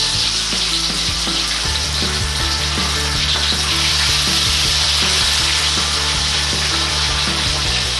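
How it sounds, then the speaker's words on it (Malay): Jenahak fish marinated in turmeric and salt frying in hot oil, a loud, dense, continuous sizzle with crackling spatters for the whole stretch. "masukkan ikan, goreng"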